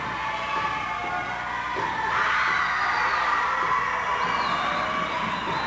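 A large crowd in a high school gym at a 1984 basketball game between West and South at West High School keeps up a steady roar of cheering and shouting, swelling louder midway through.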